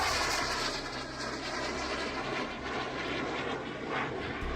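F-4 Phantom jet in flight, a loud, dense, steady roar of engine noise with broad rumbling texture, sustained and close without voices.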